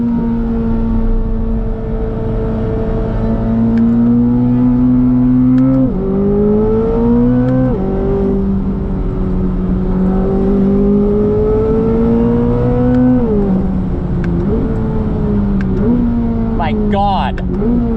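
A 2025 Chevrolet Corvette ZR1 engine drones steadily on a racetrack while tailing another car, its pitch rising and falling through gear changes and throttle lifts, loud and continuous from the cabin with no talk.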